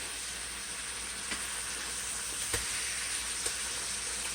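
Burgers frying in a pan give off a steady, dense sizzle with a few faint pops and clicks, close but fairly quiet throughout.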